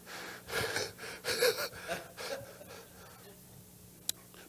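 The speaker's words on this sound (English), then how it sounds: "Everybody take a deep breath." A church congregation draws a collective deep breath during a sermon, heard as a soft swell of many inhalations and exhalations, followed by quieter room tone and a single faint knock.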